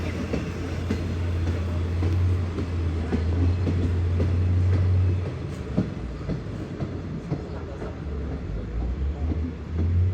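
A train rumbles past close by at Chiang Rak railway station, a steady low roar with rhythmic wheel clatter that eases off partway through as the carriages roll on.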